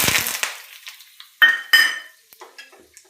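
Mustard seeds, cumin and asafoetida hit hot oil in a pan, opening with a sharp sizzle, then a few metal clinks of a spoon stirring and fainter crackles fading out, close by, with no talking.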